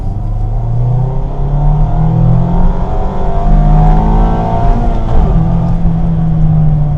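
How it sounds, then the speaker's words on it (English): A 2026 Mazda MX-5 RF hardtop with a 2-litre engine and manual gearbox accelerates, its close, loud engine note climbing in pitch, briefly dipping, then rising again, with no speech. "And it's a pretty good engine noise too."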